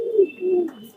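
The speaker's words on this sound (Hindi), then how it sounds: "ये जो है काले सफेद परों का कबूतर है" A black-and-white feathered Rampuri Gehra pigeon gives a short, low, close cooing call in two soft swells.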